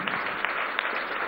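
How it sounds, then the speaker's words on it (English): An audience at the India Today Conclave applauds A.R. Rahman, a short burst of dense, steady clapping with a few sharper claps standing out. "Round of applause, ladies and gentlemen, for this guy, man."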